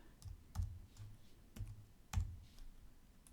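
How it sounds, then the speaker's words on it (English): Computer keyboard keys click while selecting and deleting contours in modelling software: a few sharp, isolated taps spaced about half a second apart, close and quiet in a still room. "I'm just going to select, hit delete on my keyboard."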